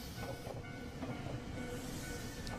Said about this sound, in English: At times, I could hear the passing of cars and nearby trains in the distance.